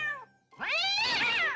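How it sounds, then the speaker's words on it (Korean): A cat outside an animal hospital gives a single clear, drawn-out meow right after a short higher call, close and fairly loud. "아, 귀여운 고양이."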